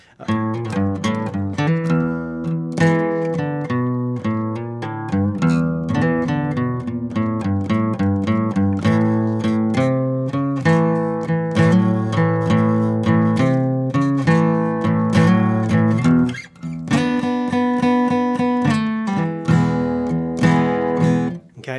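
Electric guitar plays bluesy melodic phrases with bends and quick runs, steady and close, with a brief pause before a final flurry of notes.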